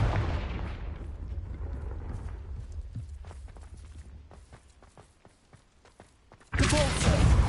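A Confringo fire spell blasts in Hogwarts Legacy, a loud rumbling burst that decays into scattered thuds and crackles before a second heavy blast erupts at the end.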